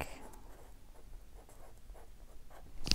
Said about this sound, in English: And then I'm going to write pink.